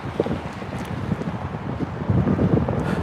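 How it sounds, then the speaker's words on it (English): Wind buffets a microphone during a walk home, a rough, gusty low-frequency rumble that swells and rises near the end, loud and continuous with no other sounds standing out. "I'm sorry if you're hearing this wind"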